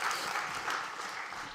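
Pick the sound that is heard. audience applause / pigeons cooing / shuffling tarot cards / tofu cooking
audience applause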